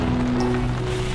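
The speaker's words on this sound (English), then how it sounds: "When it rains here, it properly rains here." Steady rain falls at a motorhome service point where water tanks are filled and toilet and grey water are emptied, a dense, continuous wash with a low steady hum underneath and no talk.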